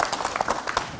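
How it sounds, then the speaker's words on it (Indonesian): A studio audience at an Islamic television talk show applauds with dense, steady clapping from many people, close and continuous throughout the short moment. "mohon izin tepuk tangan buat Ustazah Maryam"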